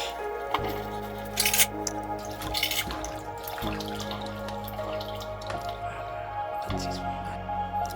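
Cabbage gets its final rinse in water, with repeated dripping, squishing and splashing as the leaves are handled in a sink, steady and close throughout.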